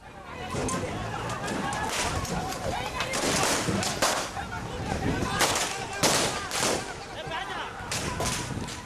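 Police fire warning shots into the air to disperse protesters during a street clash in Papua, Indonesia, sharp cracks scattered through a loud, continuous crowd din with shouting.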